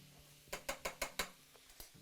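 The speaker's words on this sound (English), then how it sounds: "We'll let this saute." Jalapeno sauteing in a pan while cooking Cajun shrimp and grits, heard as a quick series of six or so light clinks and scrapes of a utensil against the pan over a faint background hiss.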